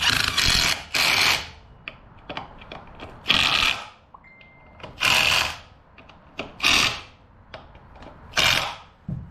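Harley-Davidson Dyna derby cover bolts being tightened by hand in a torque sequence: repeated bursts of ratcheting clicks, close and fairly loud, separated by quieter pauses and small metallic taps.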